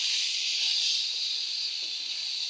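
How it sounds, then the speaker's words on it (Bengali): Lentils fry in hot oil in a pan while red leafy greens are being cooked, giving a steady, close, even sizzling hiss that holds without a break and has no talking over it. "হালকাভাবে ভেজে নিলাম।"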